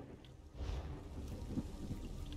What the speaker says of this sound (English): I heard lightning, I thought that was a boss spawning, but no, it's not.